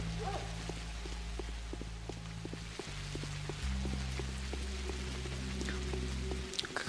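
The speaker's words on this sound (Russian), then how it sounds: "Как обычно, дождь всегда вроде утром идет, да?" Rain falls in the video game Pathologic (Мор. Утопия), a steady hiss with scattered drips and taps over a low droning background tone, with no voices.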